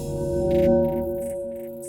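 A short drum texture processed with the Portal plugin's skimming preset plays alone, a steady tonal hum under washed-out, choppy bursts of filtered noise that flicker on and off.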